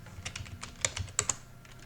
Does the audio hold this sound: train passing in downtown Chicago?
no